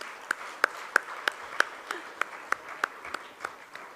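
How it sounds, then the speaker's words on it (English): Sparse, evenly spaced claps ring out at a foundation day event, roughly three per second, crisp and fairly close over a faint room background, as if a handful of people keep clapping in rhythm. "Let's keep clapping."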